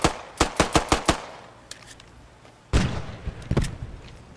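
Machine gun fire in the video game Post Scriptum, a rapid burst of five sharp shots followed by a pause, then a louder blast and a few scattered shots, close and punchy.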